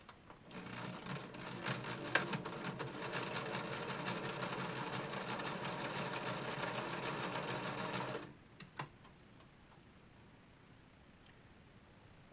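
A home sewing machine stitches a folded, ironed fabric piece for a face mask in a steady, continuous whir for about eight seconds, then stops abruptly, leaving a quiet room with a few faint clicks.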